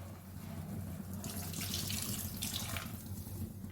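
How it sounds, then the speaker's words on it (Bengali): Spice-rinsing water pours into a hilsa fish curry with mustard paste and chilli, a steady splashing gush that swells in the middle, heard up close over a low background hum. "একটুখানি নেড়ে চেড়ে ওই মশলা ধোয়ার জলটা দিয়ে দিলাম"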